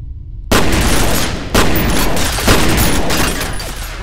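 Dense first-person gunfire from the shooter game FEAR, loud sustained bursts kicking in after a short quiet start, with fresh volleys landing about every second and a booming, rattling texture throughout.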